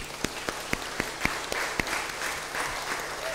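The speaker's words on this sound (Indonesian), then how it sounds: "Kita boleh berikan tepuk tangan." Scattered applause from a small church congregation at a Sunday service, sharp individual claps at first, then blending into a steady patter of clapping.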